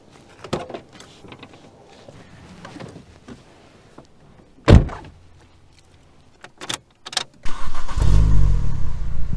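A MINI Cooper R50 hatchback: a few sharp thumps and clicks of the door and interior, then the engine cranks and catches into a loud idle near the end, close up with no talk.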